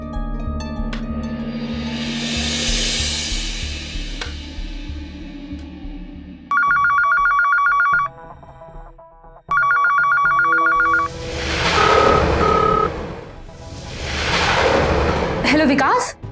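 A telephone bell rings in two long loud bursts with a short pause between, set among dramatic background music and rumbling hits.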